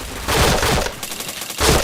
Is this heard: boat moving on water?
no